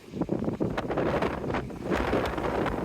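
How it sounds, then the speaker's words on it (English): Strong seaside wind buffets the microphone with a steady, loud, gusting roar and low rumble, no voices over it. "Too windy, too blowy."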